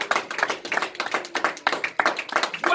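A church congregation claps in acclamation to God, a close, rhythmic run of sharp claps in quick bursts, with no speech over them.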